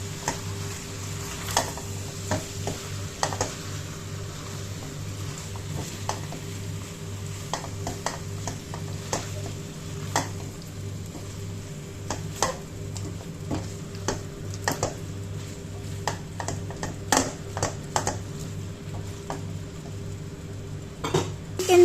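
Stirring chicken Thai curry in a pan, with soft, irregular scrapes and clinks of a utensil against the pan over a low steady hum and a faint sizzle, all fairly quiet.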